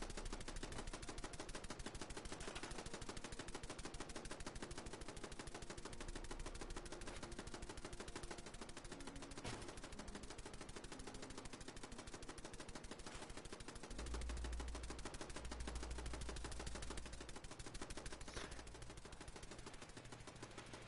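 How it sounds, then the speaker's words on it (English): Glitched gunfire in Fallout 76 keeps firing without stopping, a dense, loud, unbroken rattle of rapid shots that runs for the whole stretch with no pauses. "the gun sounds like it's going off forever"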